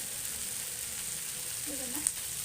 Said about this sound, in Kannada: ಇದನ್ನು ಒಂಚೂರು ಹಿಂಗೆ ಫ್ರೈ ಮಾಡ್ಕೊಳ್ಳೋಣ.